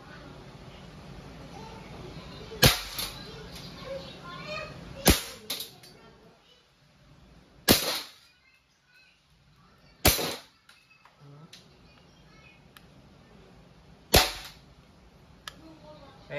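An Umarex Walther PPK/S CO2-powered blowback pistol, full metal and firing steel balls, goes off in five or six sharp, loud cracks spaced a couple of seconds apart, with faint handling noise between shots.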